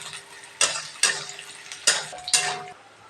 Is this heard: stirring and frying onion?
yes